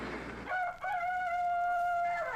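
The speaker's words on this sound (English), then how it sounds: "A cock crows." A rooster crows once in a long, clear, sustained call that starts after a brief patch of soft background hiss and carries on steadily. It is fairly close, with no talking over it.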